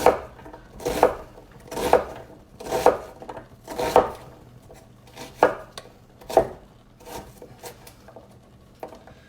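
A knife cuts an onion on a cutting board in a series of crisp, evenly spaced chops, roughly one per second, close and clear with no talk.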